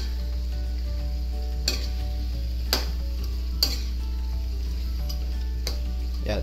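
Chicken in liver spread sauce gets stirred in a pan, a steady sizzling simmer with a few sharp scrapes of the spoon against the pan at intervals, close and fairly quiet.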